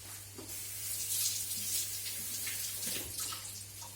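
Running water from a kitchen tap splashes steadily into a sink while potatoes are rinsed under it, a continuous close hiss with small irregular splashes and no talking.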